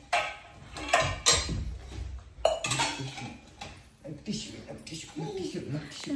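Kitchen utensils, pots and pans clinking and clattering at home while pav vada are being readied for frying, with irregular metallic knocks and scrapes under ongoing talk.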